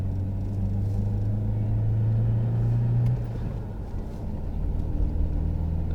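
Nissan AD with a manual gearbox accelerating, its engine droning under load and then shifting pitch partway through, with steady road rumble heard from inside the car.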